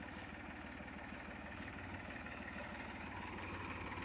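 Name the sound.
tractor engine running on a farm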